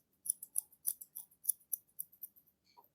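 Scissors snipping hair during a men's haircut, a rapid run of about fifteen crisp metallic clicks, close and quiet, with no talking.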